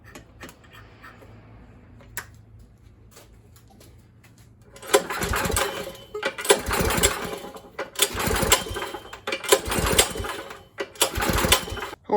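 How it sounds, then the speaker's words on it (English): After a quiet stretch a snowblower engine with its gas drained catches and runs loud and close, its chugging uneven and sputtering as it labours on the last of the fuel. "just go ahead and pull it, start it a few times, and just make sure that none of that gas is left when it stops running"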